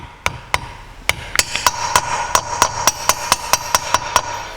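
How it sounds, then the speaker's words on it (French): A long 16 mm socket is tapped with a hammer to seat a valve stem seal on a BMW X5 40d engine. The sharp metallic knocks start sparse, then settle into a quick, steady series of light taps, close and clear. "je prends une douille de 16 longue, que je viens ici positionner sur le joint de queue de soupape et je tapote doucement"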